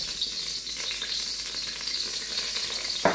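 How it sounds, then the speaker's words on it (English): Garlic and ginger stir-frying in hot oil in a wok, a steady bright sizzle held close and constant, ending with a sharp clack of the utensil, no voices. "We always constantly stir fry it"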